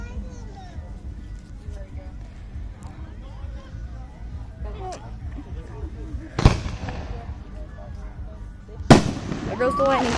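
New Year's fireworks over Kansas: two sharp, loud bursts stand out, one near the middle and a heavier one toward the end, over steady background noise and children chattering throughout.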